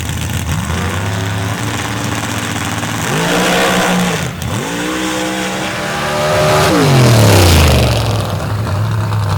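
A 672 cubic inch big block Ford powered Chevy Colorado drag truck at an outlaw drag racing event roars loudly. Its engine revs rise and fall in hard sweeps, with crowd and track noise behind it.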